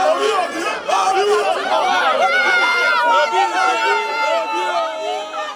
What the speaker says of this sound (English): amidst shouts of Obi from the crowd that welcomed him